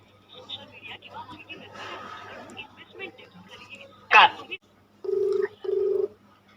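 Quiet talk and background murmur, then a sharp beep followed by two steady, evenly spaced ringback tones from a mobile phone prank call.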